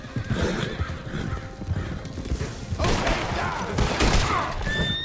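Horses in the Red Dead Online video game whinny loudly and gallop with rapid hoofbeats, mixed with bursts of gunfire, continuous over several seconds.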